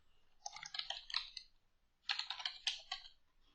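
Quick bursts of typing on a computer keyboard, two short runs of crisp clicking keystrokes separated by a brief pause, close and clear in a quiet room.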